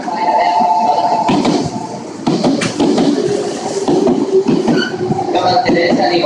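A Meitetsu 3500 series train rumbles and rattles loudly into Kanayama station, with metallic clatter, brake squeals and a faint announcement tone.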